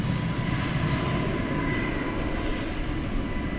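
American Airlines Airbus A321neo departing DFW International Airport for San Francisco gives a continuous, loud, steady engine rumble with a faint tonal whine, unbroken and free of talk.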